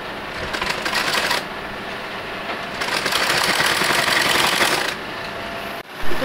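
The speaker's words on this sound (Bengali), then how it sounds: "উপর দিকে দেওয়ার পর এই সামনের দিক দিয়ে চাপ সেলাইটা দিতে হবে" Sewing machine top-stitching fabric scraps into a child's pants, fast close mechanical needle chatter running in two bursts with a short slower pause between, ending with a brief clunk.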